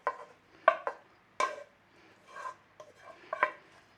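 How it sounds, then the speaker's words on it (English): Spoon stirring colcannon, a mix of cabbage, mash, onion, butter and milk, in a pot: a few separate scraping, clinking strokes, close and fairly quiet, with short pauses between them and no talking. "And then we're just stirring it all together in there."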